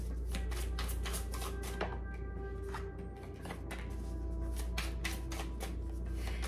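Tarot cards being shuffled by hand, a steady run of quick papery riffles and slaps that carries on with only a brief pause, close up and alone without any talking.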